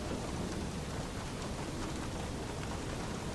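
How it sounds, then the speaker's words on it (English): Heavy thunderstorm rain pours steadily and densely, a constant broadband hiss and patter with low rumbling underneath, no voices. "The storm rages without mercy."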